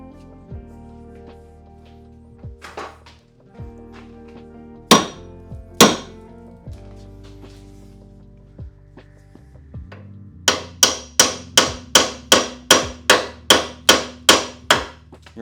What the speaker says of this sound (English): I'm gonna need a better hammer.